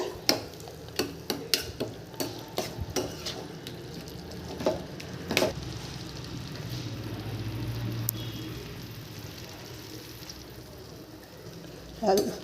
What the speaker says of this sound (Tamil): தூள் மிளகாய் தூள் மஞ்சள் தூள் இதெல்லாம் சேர்ந்து நல்லா வேகட்டும் கிண்டி விட்டுட்டு